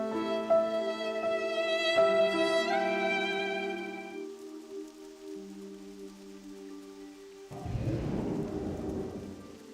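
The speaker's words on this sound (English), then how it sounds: "Why, oh why is it raining?" Steady rain with a rumble of thunder breaking in near the end, under a calm melodic game music track with sustained tones, in the video game World of Warcraft Classic.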